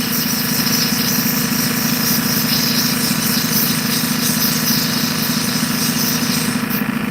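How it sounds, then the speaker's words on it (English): Kingsley North 8-inch tabber lapidary machine, modified with the side buffing wheels removed and a grinder added, running steadily with a constant low motor hum and broadband whir, loud and close, unchanging throughout with no talk. "Is this a Kingsley North 8-inch tabber?"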